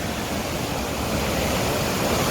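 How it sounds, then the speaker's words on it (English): A river in flood after five days of continuous rain rushes through rapids, giving a steady, dense, loud roar of churning water with no break or change across the moment. "That's some rapids, isn't it?"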